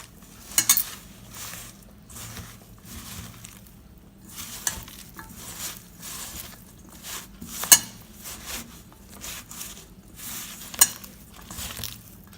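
Ivy gourd pieces mixed by hand with spices and gram flour, faint soft squelching and patting strokes in an uneven rhythm, with a few sharper clicks against the bowl.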